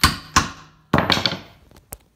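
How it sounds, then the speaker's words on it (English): A hammer taps a keyed shaft into a Mopar M-6 semi-automatic transmission with an interference fit: sharp metallic knocks, a couple of spaced blows then a quicker cluster and a final lighter tap, close and alone. "maybe I'll just grab a hammer and give it a tap"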